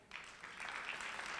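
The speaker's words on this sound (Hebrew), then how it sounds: "באמת, באמת מחאות כפיים" Audience applause at a scholarship award ceremony, starting from near silence and building into steady, fairly faint crowd clapping that continues for over a second.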